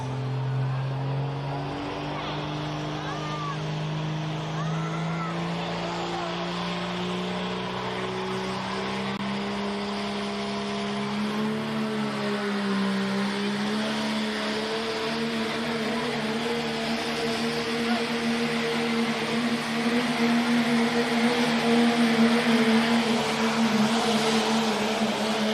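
Dodge 3500 pickup with a Cummins diesel engine competing in a truck pull at the Clearfield County Fair in Pennsylvania, a loud sustained engine roar with a low droning tone that climbs steadily in pitch as the truck pulls, growing louder near the end.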